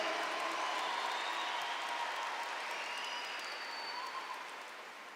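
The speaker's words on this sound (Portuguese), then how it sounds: "Pode aplaudir, pode aplaudir, pode aplaudir, pode aplaudir" A church congregation gives sustained applause, a wash of steady hissing claps that fades slightly toward the end.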